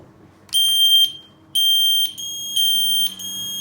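A Sarabec Fire Angel smoke alarm, set off with its test button, sounds loud, piercing beeps in a repeating pattern of four half-second tones, with a lower tone joining near the end.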